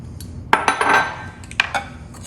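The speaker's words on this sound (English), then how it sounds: "we're going to take our sugar and we're going to mix it with the egg yolks" A utensil knocks and scrapes against a bowl as sugar is beaten into egg yolks, giving a few sharp clinks and brief clattering bursts close by.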